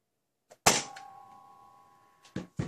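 Nerf Hyper Impulse-40 toy blaster firing: a sharp, close snap followed by a ringing metallic clang that fades over about a second, then a few quick clicks and another sharp crack near the end.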